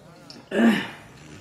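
A single short, rough cough or throat-clearing burst, close and fairly loud, fading quickly into quiet.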